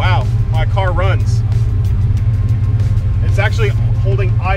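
Fox Body Mustang engine running on a Holley Terminator X idles in a steady, loud low rumble, holding even without surging, while a person talks over it.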